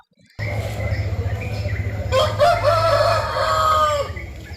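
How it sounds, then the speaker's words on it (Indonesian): A rooster crows loudly and close by, one long drawn-out call over a low rumbling background, with some clucking around it. "Ken Angro berjalan dan melihat ayam jago yang mana tidak ada penjaganya."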